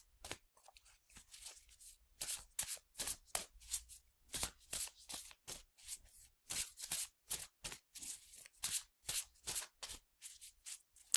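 Oracle cards being shuffled by hand: a long run of crisp riffling and sliding bursts in an irregular rhythm, close and quiet, with no talking.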